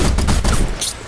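Sniper gunfire in the vehicle-combat video game Gear Up: a quick, loud cluster of sharp shots and booms packed into about a second, with no talking.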